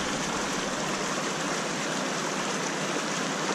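Gravel and water poured into a gold-mining sluice box, steady rushing water with a gritty, pouring wash, continuous and fairly loud throughout, no voices.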